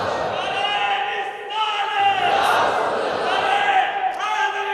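A large crowd at a religious gathering chants and shouts a slogan together in loud, sustained unison, with a lead voice rising over the massed voices.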